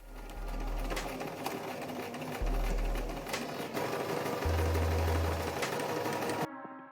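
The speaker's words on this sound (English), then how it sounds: "And now we'll have to turn it to be able to sew one of the sides" Sewing machine stitching along one side of a fabric-scrap cube doorstop, running in a loud, steady mechanical whir with a few brief pauses and speed changes, then stopping abruptly near the end.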